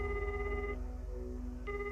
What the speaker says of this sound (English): Why don't you answer your phone, Fushiguro?